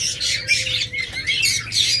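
Lovebirds give a steady stream of sharp, shrill squawks and chirps at close range, with no voices.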